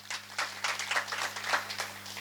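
Audience applause at a Shivaji Maharaj Jayanti celebration speech, a steady wash of many hands clapping at moderate distance, sustained with small swells, over a faint electrical hum.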